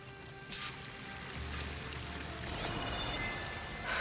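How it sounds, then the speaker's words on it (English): A waterfall in the video game Horizon Forbidden West gives off a soft, continuous rush of falling water, fairly quiet and even, with slight swells in intensity toward the end. "That waterfall must be coming from somewhere."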